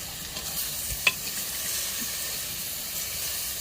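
Village-style chicken curry roasting in a pan gives off a soft, steady sizzle and hiss, with one brief clink partway through and no voices.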